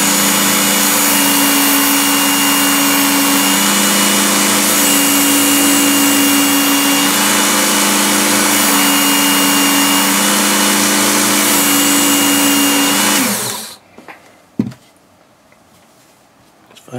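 Work Sharp Knife & Tool Sharpener, an electric sharpener, running with a loud steady motor whine and faint grinding as a knife is pulled through the guide, holding for about thirteen seconds before spinning down, followed by a few light clicks and handling noises.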